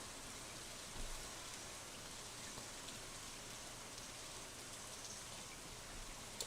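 Rain falling in the Stardew Valley video game, a faint, steady hiss of drops that stays even throughout with no voices.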